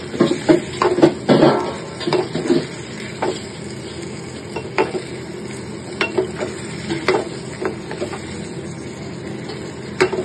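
Chickpea curry (chole) stirred in a pan for chole bhature: a series of uneven scraping and tapping strokes of a spoon against the pan over a low, steady sizzle, close up and with no talking.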